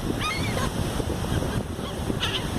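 Seagulls call in short squawks at a beach in Playa del Carmen, Mexico, as they are fed taco chips, heard over steady surf and wind noise.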